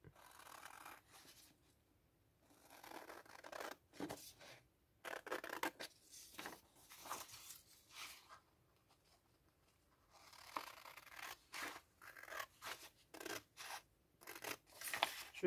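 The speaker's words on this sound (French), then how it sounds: "Allez, je suis partie pour les ciseaux." Scissors snip through paper in close, repeated bursts, with short crisp cuts and brief pauses between strokes while a bullet journal page is trimmed by hand at a craft table.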